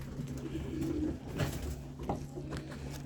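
A pigeon in a breeding loft gives low, rolling coos in a couple of repeated phrases, close by and calm, with faint shuffling behind it.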